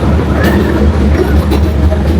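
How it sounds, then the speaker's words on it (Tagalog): A train pulling slowly into a station in Vietnam, a steady loud rumble of rolling cars with faint clattering on the rails. "So ayan na guys yung train."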